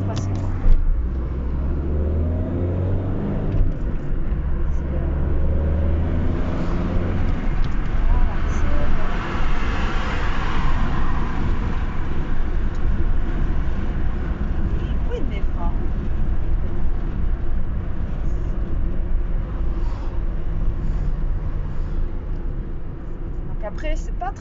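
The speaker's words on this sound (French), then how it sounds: "C'est une petite 4 voies, alors ça roule vite et vous n'avez jamais le temps de passer" Cars speed along a small four-lane road in a continuous loud roar that swells and fades as vehicles pass close by, with a voice talking over the traffic.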